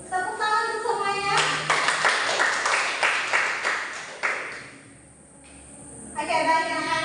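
Children clap together in a primary school classroom during a geometry lesson, a burst of many quick overlapping claps lasting a few seconds, starting abruptly after a short spoken phrase and fading before more talk resumes.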